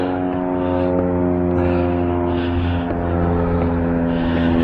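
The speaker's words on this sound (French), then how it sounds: "C'est quoi, les avions de tourisme?" Propeller-driven tourist plane droning over snowy mountains near Chamonix, a steady low engine hum with a slowly wavering tone, continuous and moderately close.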